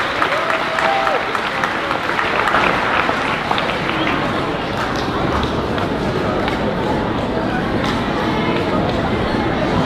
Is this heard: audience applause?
yes